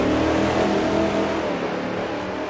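Race car engine revving hard and accelerating out of a corner during a sim racing event at the Montreal circuit, a loud, sustained harmonic engine drone that rises steadily with no talk over it.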